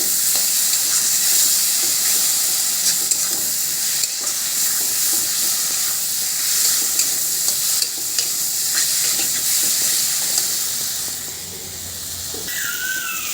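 Continuous sizzling and frying of spice paste with vegetables, with the scrape of stirring, a steady hiss that eases slightly near the end.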